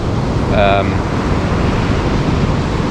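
Surf rolls in along 90 Mile Beach on a rising tide, a loud, steady broadband wash mixed with wind buffeting the microphone, with a brief tonal sound early on.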